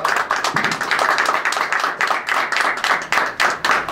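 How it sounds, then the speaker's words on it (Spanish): An audience at a university faculty swearing-in ceremony applauds its new professors, dense rhythmic clapping from a moderate crowd, close and lively, with no talk over it. "un fuerte aplauso para los nuevos profesores de la facultad"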